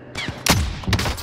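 Gunfire in Call of Duty: Modern Warfare, a short, close burst of several sharp shots within about a second.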